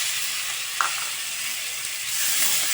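Tomatoes hit a pan of frying garlic for a chickpea curry, giving a steady, fairly loud sizzle that runs on with no talk over it. A brief stir sounds near the start, and the frying brightens toward the end.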